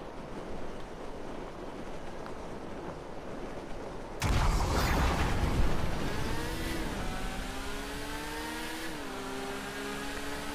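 Motorbike engine in GTA V, rising and revving with a steady tonal whine that climbs and shifts pitch, over a broad rushing wind-like roar.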